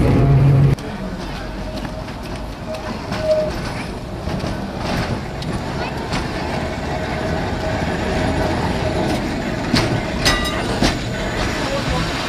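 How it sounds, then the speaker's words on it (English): A tram ride at Beamish museum heading toward a fairground: a steady rumble of the car rolling on rails with rattles and clicks over its length, heard from on board. "we treat ourselves to a tram ride to the local fairground"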